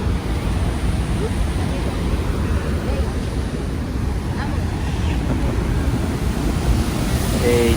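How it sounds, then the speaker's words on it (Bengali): Niagara Falls, seen from the American side, roars continuously as water plunges into the gorge, a dense, steady rush with gusts of wind buffeting the microphone. "এই যে দেখেন পানিটা ওই যে নিচে পড়তেছে।"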